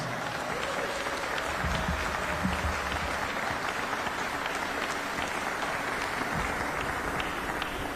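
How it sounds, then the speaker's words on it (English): A large crowd at a transit welcome party for FIFA fans applauds steadily, a continuous wash of clapping that holds at even loudness throughout. "Let's give them a big round of applause"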